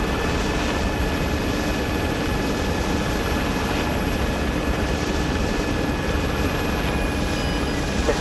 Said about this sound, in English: There is an MI8 circling around.